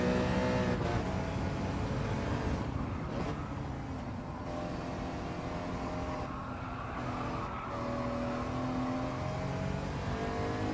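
A race car in Gran Turismo 7 accelerating hard out of a corner, a loud sustained engine roar with rising revs and gear changes, close and continuous, no talk.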